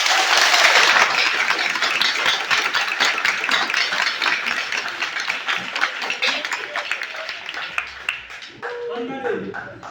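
An audience at a training session for young technicians applauds with dense, sustained clapping that gradually thins out, and a voice speaks as it ends.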